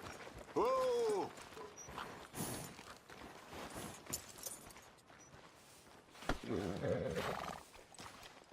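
A horse in Red Dead Redemption 2 gives a loud, close neigh, then snorts and shifts about with some hoof sounds, while someone talks over much of it.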